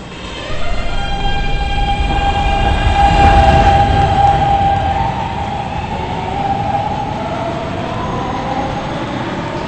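A PTA PST3R train on the B line rolls past loudly with a steady rumble, bright squealing tones from wheels or motors rising and fading, and a horn-like tone near the middle, alone without talk.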